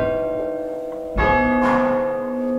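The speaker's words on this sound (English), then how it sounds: "literally just pull on these and that chimes the bell" An Ellacombe chimes church bell, rung by pulling its rope, strikes twice in quick succession, each strike leaving a long, ringing, resonant hum.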